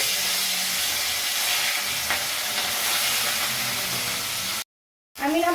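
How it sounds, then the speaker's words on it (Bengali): Fish sizzle steadily in a kadai, a loud, even frying hiss that cuts off abruptly near the end before a brief voice is heard. "মাছগুলো কড়াই দিয়ে আমি ভেজে নিচ্ছি"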